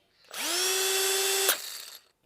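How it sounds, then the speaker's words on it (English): A Milwaukee cordless drill spins up and runs at a steady, even whine for about a second, then a brief click marks the stop and the motor winds down alone, close and loud. "you can just hear the difference sometimes in these drills. Listen to the Milwaukee."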